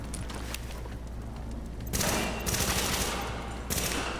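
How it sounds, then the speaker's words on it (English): Blind gunfire in the shooter Tom Clancy's The Division: rapid bursts of automatic fire come in several loud, close volleys over a low rumbling background. "Notice the blind fire."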